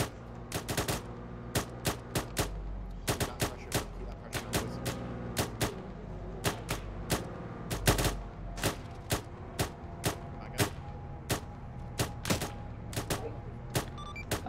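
Machine gun fire in a military video game rattles in repeated sharp bursts at a steady rhythm, loud and close, over a constant engine-like rumble, with voices faintly underneath.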